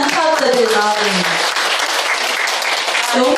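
Audience at a fashion show applauds in a dense, sustained wash of clapping that runs the full length, with a brief tonal voice or music at the start and a louder swell near the end.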